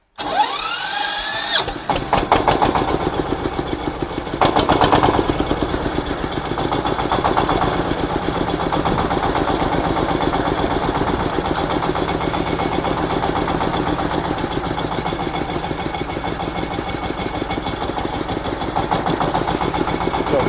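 A Kentavr 350VR mini tractor's small diesel engine cranks without decompressor and catches, then settles into a steady, loud chugging idle with a rhythmic knock that continues without pause.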